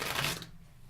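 Mystic Dreams Tarot cards are shuffled close by in a brief papery riffle that cuts off after about half a second, leaving a faint room hush with no talk.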